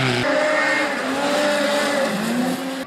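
Turbocharged snowmobiles, an 800 Turbo and 1100 Turbos, at a drag race, with a loud engine roar that holds steady tonal harmonics and shifts pitch as it runs, close and continuous for about three seconds.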